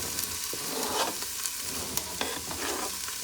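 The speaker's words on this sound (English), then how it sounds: "I'm gonna add in my beautiful fresh ingredients. We're gonna fry these up." Fresh ingredients fry in warm oil in a pot, giving a steady hiss with a few soft clicks and stirring knocks. No one speaks.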